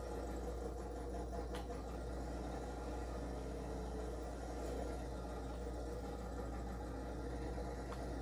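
An old tractor engine runs at a steady idle, a continuous low rumble with faint vibration, moderately distant and even throughout with no talk.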